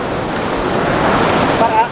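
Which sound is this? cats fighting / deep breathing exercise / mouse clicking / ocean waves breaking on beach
ocean waves breaking on beach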